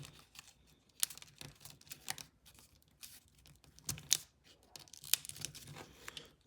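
Paper model airplane wings, a folded SAAB-37 Viggen, are creased and folded up by hand, giving close, sparse crinkles and sharp papery snaps with quiet gaps between them.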